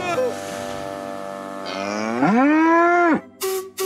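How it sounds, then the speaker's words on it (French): A cow on the railway tracks in a Thomas & Friends cartoon gives one long, loud, rising moo, followed by short bursts of cartoon sound. "cette vache se balade toujours sur les voies et ça me met très en colère"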